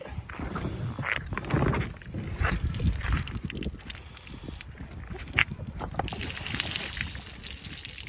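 Water sloshes and splashes as an inflatable SeaPro fishing boat is tipped, with broadband splashing and a few knocks against the hull, fairly close.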